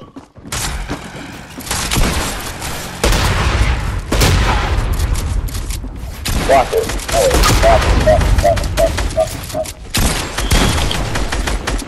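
Fortnite gunfire: repeated loud bursts and shots with a rapid chain of clicking, mechanical reports partway through, mixed with game effects while a player talks.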